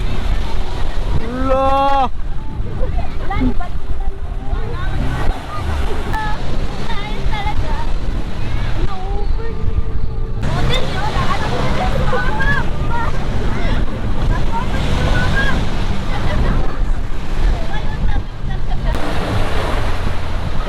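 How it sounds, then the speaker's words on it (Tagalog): Strong wind roars continuously against the microphone, loud and buffeting, with people talking and shouting underneath. "Grabe ka hangin, no?"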